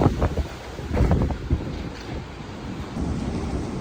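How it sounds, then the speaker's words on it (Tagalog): Strong typhoon wind in Macau buffeting the microphone, a loud continuous rushing roar with gusty surges and no voices. "Malakas na kasi yung hangin."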